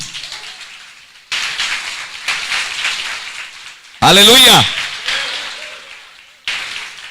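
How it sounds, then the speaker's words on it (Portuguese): A church congregation at a congress service breaks into sustained applause, a dense, rain-like wash of clapping that swells and holds. A loud voice shouts over it partway through. "Pode dar um aplauso ao Senhor?"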